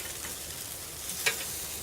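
Sriracha reaper chicken skewers sizzle on a grill at about 450 degrees, a soft steady crackle and hiss with one brief sharper scrape or pop as they are flipped.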